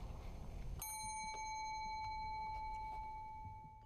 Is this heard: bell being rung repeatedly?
yes